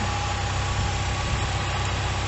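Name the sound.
car engine idling, dropping idle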